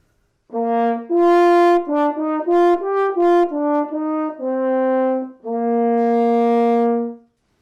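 A French horn plays a solo melody of several sustained notes and quicker steps, rich and mellow, ending on a long held tone.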